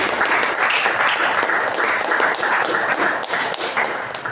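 A room of Toastmasters joint-meeting members gives a steady, dense round of applause welcoming guests from the Mekong Communication Club, sustained evenly throughout without letting up.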